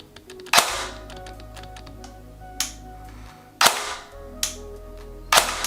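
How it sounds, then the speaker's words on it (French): An ARES AR-003 L85A2 airsoft replica dry firing, four sharp spring-driven snaps spaced irregularly, each with a loud metallic twang, between quieter mechanical clicks of the trigger and a faint electrical hum. "il y a un bruit de ressort assez imposant quand même"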